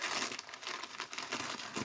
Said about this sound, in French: c'est le seul sachet que je vais déchirer